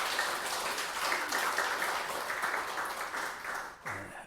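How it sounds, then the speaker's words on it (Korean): A church congregation applauds during a Korean Sunday worship service, a dense, steady wash of many hands clapping together that holds evenly and then drops off sharply near the end. "우리 하나님께 감사와 영광의 박수 올려드리겠습니다."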